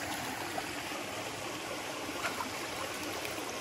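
Steady water flowing in a river beside a garden where plants are being watered, a continuous soft rushing and trickling with no break, fairly quiet and alone.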